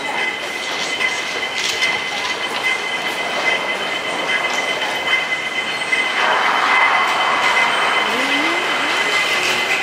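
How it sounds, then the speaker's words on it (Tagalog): Hong Kong transfer train heading to immigration, a steady loud rumble of rolling cars with a rising wheel squeal near the end and no voices. "Ito yung train papunta sa immigration."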